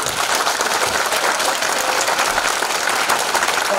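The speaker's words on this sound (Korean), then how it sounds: "박수 한번 주세요" Loud, dense applause from a seminar audience at a natural history museum talk, steady clapping that carries on without pause the whole time.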